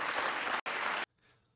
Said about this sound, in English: imagine clapping for these bad jokes